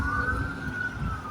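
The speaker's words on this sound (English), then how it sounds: "when you hear the sirens," A wailing emergency siren holds a steady high tone over low road rumble, sounding fairly loud and continuous for the whole short stretch.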